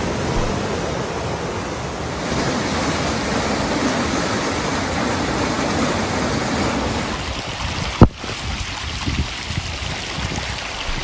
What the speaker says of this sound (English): Let's take a look at some of that flooding.